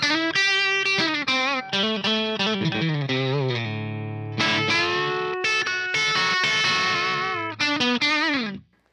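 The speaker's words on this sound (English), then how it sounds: "then you're gonna go ahead and get some of that nice overdrive," An electric guitar played through a Dr. Z Carmen Ghia amp with its volume up into overdrive, with gritty sustained chords and noodling single-note lines, loud and close, with no talking.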